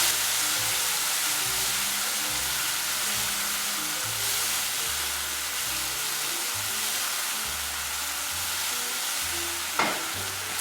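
Chinese rice wine hits a pan on high heat and sizzles hard, a steady loud hiss with crackle that holds throughout, no talking.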